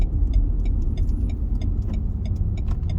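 Manual-transmission car driving through traffic while working up through first, second and third gears, a steady low engine rumble close by with faint ticking from inside the cabin and no talking.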